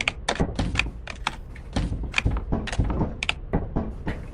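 Rapid, uneven typing on a computer keyboard sitting off to the side of a crowded desk, with close, crisp key clicks and heavier thumps arriving in quick irregular bursts with no talk.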